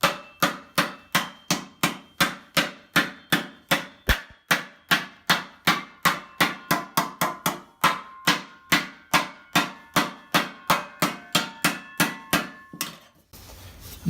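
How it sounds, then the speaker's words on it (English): A hammer strikes steel plate being shaped into an armor pauldron, a long run of sharp, evenly spaced metallic blows at close range, alone without talk. "You can hear me hitting it a little bit more firm now, so I'm trying to stretch the steel a little bit more."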